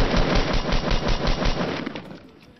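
Rapid automatic gunfire bursts loud and close during a Fortnite Battle Royale match, with dense repeated shots for about two seconds before tapering off.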